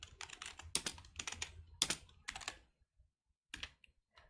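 Code is typed on a computer keyboard for a C++ tutorial: quick bursts of close, crisp key clicks in uneven clusters, broken by a short pause before a final flurry, with no talking.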